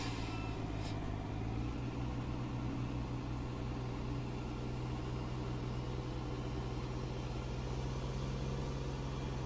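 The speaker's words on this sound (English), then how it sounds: "the novelty of being able to pull away with an empty truck" Simulated truck engine in Farming Simulator 19 pulling away empty, a steady low drone that rises slightly in pitch as it accelerates, loud and continuous with no talk.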